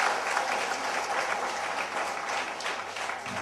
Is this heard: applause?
yes